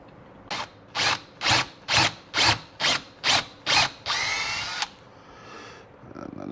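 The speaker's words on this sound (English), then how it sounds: "we need to drill 2 pilot holes" Power drill boring two pilot holes into wooden trailer bunks for lag bolts on a jon boat trailer: eight short, evenly spaced bursts of whirring, then a longer sustained run, close and loud with no talking.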